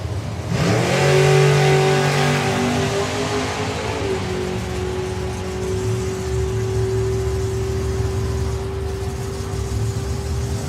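A two-seater dragster launches down a drag strip at a racing event, its engine roaring loudly and revving higher before settling into a steady, fading drone as it travels away.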